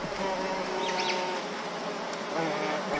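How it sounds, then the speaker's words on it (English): Close, continuous buzzing of bees with a few faint bird chirps in the background. "I've got some bees with birds."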